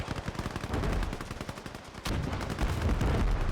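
In a Gates of Hell battle, the Panzer VIII Maus joins a dense crackle of rapid gunfire, with a heavy cannon blast cutting in about halfway and a rumbling roar carrying on after it.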